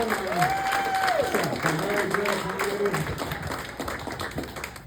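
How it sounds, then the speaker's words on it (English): Comedy club audience applauding through a stand-up set, a steady wash of clapping with a voice speaking over it in the foreground throughout. "How about one more real nice round of applause?"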